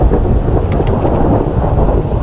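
Deep, heavy rumbling thunder from a lightning strike in the Minecraft game, a dense low roar that fills the whole stretch at steady loudness without letup, with no voices over it.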